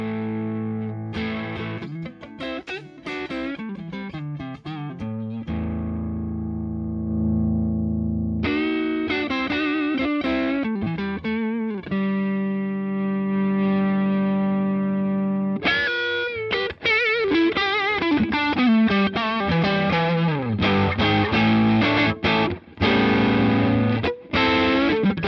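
Electric guitar with a P90 pickup through the Bluesbreaker side of a NUX Ace of Tone pedal, crunchy overdriven chords and single-note phrases with sustained ringing passages, close and continuous with no talking.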